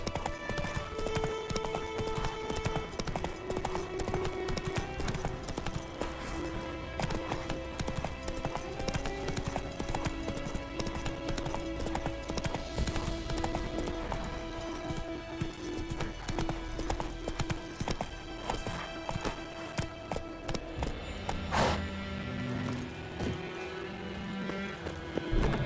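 Roach, a horse in The Witcher 3, gallops with rapid rhythmic clip-clop hoofbeats that run continuously. Game music plays underneath, and there is a brief whinny.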